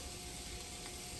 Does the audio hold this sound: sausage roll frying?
yes